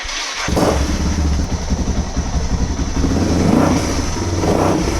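A Suzuki DR650 motorcycle engine cranks and catches, then runs at a rough, uneven idle with a couple of small revs, close and loud; the engine is running lean.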